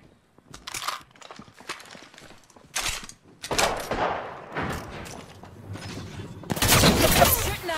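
Gunfire from a G7 Scout rifle in a battle-royale shooter game, a scattered series of sharp, loud shots and bursts with several close reports building to a dense volley near the end.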